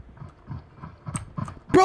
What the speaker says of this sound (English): Bro, his footsteps were so freaking loud!